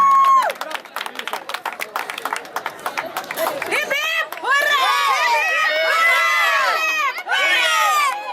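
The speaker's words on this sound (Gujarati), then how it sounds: "જોરદાર તાળીઓના ગણગણાટથી એમને વધાવી લઈએ." Dense crowd applause rises to welcome honorees at a community garba event, sustained clapping from many hands continuing for several seconds, with a voice over a loudspeaker speaking before the clapping swells.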